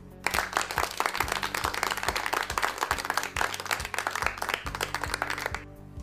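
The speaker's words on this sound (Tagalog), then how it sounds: "bibigyan ko kayo ng maraming palakpak" Clapping from a classroom radio program, a dense burst of many hands that runs steadily for several seconds over a low steady hum and fades out at the end.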